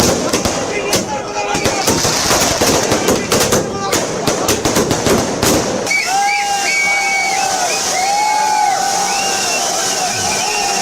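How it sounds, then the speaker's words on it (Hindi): Fireworks crackle and pop in a dense, rapid barrage at a political celebration outside a party office in Chennai. They are loud and continuous, then fade into a noisy crowd with whistling and shouting. "उसके बाद देखिए आतिशबाजी।"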